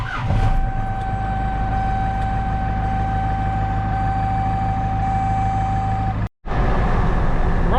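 A Cummins diesel-powered Tahoe cruising down the road, a steady loud engine drone and road rumble with a sustained tone, briefly cutting out near the end before resuming.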